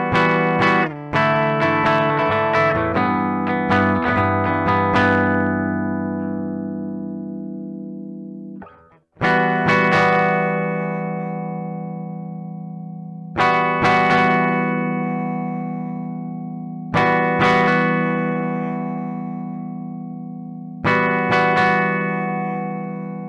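Heavily distorted electric guitar through a GGD Cali Oversized cab with a guttural setting: fast chugging riffs first, then a string of big sustained chords, each struck and left ringing before the next hit.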